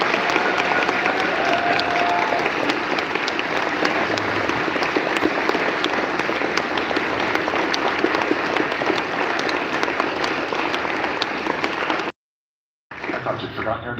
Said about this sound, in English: can we have a big round of applause for that?